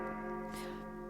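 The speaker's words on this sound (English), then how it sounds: "Bells tolled over the city, announcing the end of curfew" Church bells tolling over a city in a narrated game, a single sustained ringing tone with steady harmonic hum across the short moment, fairly loud and alone without talk.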